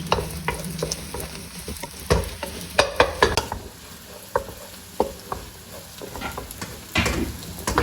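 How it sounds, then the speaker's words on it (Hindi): Beaten eggs fry in hot oil in a kadai, a crackling sizzle under frequent sharp scrapes and knocks of a spatula against the metal, close and fairly loud, with no talk. "सबसे पहले हम लोग ये फ्राई करके निकाल देंगे।"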